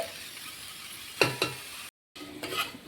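Okra (bhindi) stir-frying in a pan, a steady hiss of sizzling with a couple of louder scraping stirs of the spatula and a brief dropout before the frying noise resumes.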